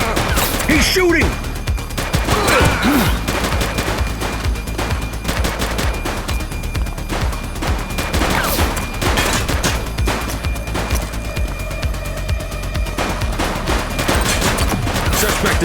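Sustained, heavy gunfire in the police video game The Precinct, rapid bursts and single shots crackling loudly and continuously, with shouted game voices in between.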